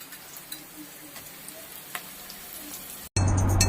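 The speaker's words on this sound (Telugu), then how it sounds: "ఆనియన్ వేగిన తర్వాత పచ్చిమిరకాయలు వేసుకోవాలి" Onions and green chilies frying in a pan with a soft, steady sizzle and faint crackles, then an abrupt, much louder burst of noise cuts in at the end.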